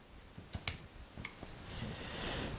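Scissors snip through upholstery fabric around an armchair leg: a few close, sharp cuts spaced apart, followed by soft rustling of the cloth, in a quiet room without talk.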